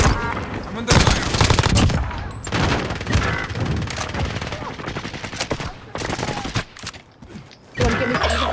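Call of Duty: Modern Warfare gunfire, loud repeated automatic bursts and single shots close by, dense and uneven with brief pauses, over a cluttered battle soundscape without speech.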